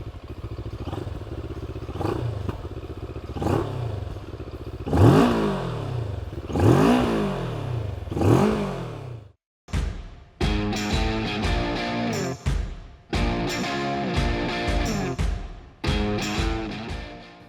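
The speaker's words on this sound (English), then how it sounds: "I really like how this motorcycle sounds. There is a bit of bassy character as well as roughness to its exhaust sound." A Moto Morini Seiemmezzo Retro Street motorcycle's exhaust, bassy and rough, is heard up close through repeated sharp revs that rise and fall, then after a brief cut a run of quicker blips and clattering idle.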